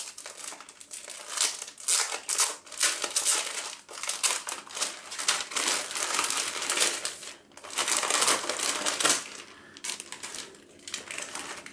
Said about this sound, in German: Wollen wir die erste Tüte mal öffnen?